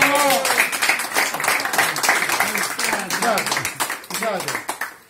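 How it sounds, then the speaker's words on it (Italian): A crowd at an outdoor birthday celebration in San Severo applauds, dense clapping running steadily for several seconds under voices and a speaker talking over it. "Un applauso a Tonino!"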